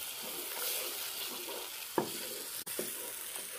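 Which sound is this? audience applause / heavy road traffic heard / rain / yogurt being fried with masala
yogurt being fried with masala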